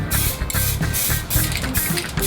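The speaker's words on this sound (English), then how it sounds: "and first up is an undercoat" Spray paint undercoat hissing onto a guitar body hung outdoors under a pergola, loud close bursts of spray in quick repeated passes, with a faint rattle between them.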